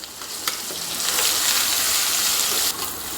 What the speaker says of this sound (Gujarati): ડુંગળી ટ્રાન્સપરન્ટ થઈને ત્યાં સુધી સાંતળી લેશું.